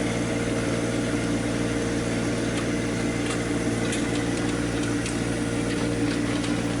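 A tractor engine drones steadily and unbroken while it drags a Frontier 2048 box blade across a gravel driveway to scarify it, with a constant rumbling hum and faint scraping ticks.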